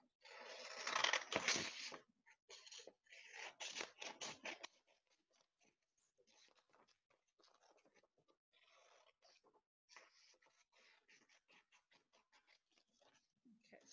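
Scissors cut colored paper craft sticks with a cluster of crisp, rapid snips up close, then a second burst, followed by quieter scattered paper rustles and light snips.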